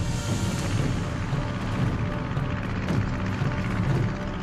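A British Spitfire fighter's propeller engine drones steadily overhead as a continuous, dense rumble with no breaks, set in the Second World War over the port of Bergen in occupied Norway.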